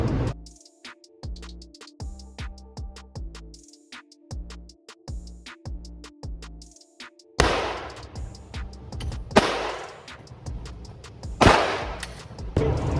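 Sharp pistol shots from a Glock 19 at a shooting range, a rapid string of loud cracks in the first half with pauses between groups, followed by louder, more reverberant blasts from the range.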